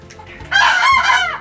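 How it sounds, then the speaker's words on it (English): A rooster crows loudly and close, one long strained call after a brief soft cluck, alone without talk. "there's a bunch of roosters"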